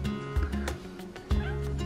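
A cat meows a couple of short times during a car camping trip, fairly close, with soft thumps and background noise between the calls.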